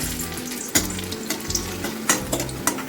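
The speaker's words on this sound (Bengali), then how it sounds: "তেল গরম হয়ে গেছে এবার কটা কাজু ভেজে নেব" Steady sizzling of cashews frying in hot mustard oil, with a few sharper pops and clinks of stirring breaking through the continuous hiss.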